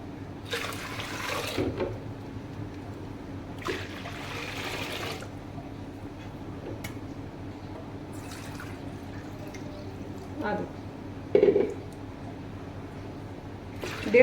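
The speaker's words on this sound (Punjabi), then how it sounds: "ਹੁਣ ਆਪਾਂ ਇਹਦੇ ਵਿੱਚ ਪਾਵਾਂਗੇ ਪਾਣੀ" Water gushes in short bursts into a pot of kadhi on medium gas, several separate pours with quiet gaps and faint drips between them.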